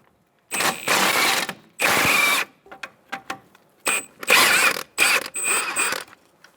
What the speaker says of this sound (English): So now we're going to take out our strut bolts. I'm going to use a 19mm socket and a 20mm wrench.